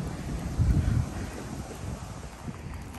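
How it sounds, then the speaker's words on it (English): Wind gusts steadily across a San Antonio campground RV area, a broad rushing roar buffeting the microphone, with a stronger blast early on and no voices. "But it is getting windy"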